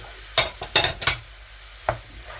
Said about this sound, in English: So next, in with our beetroot.